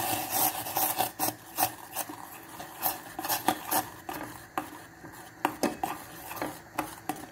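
A spoon scrapes and rasps around a pot as protein powder is stirred into boiling oatmeal porridge, giving repeated close, uneven strokes with light clinks throughout.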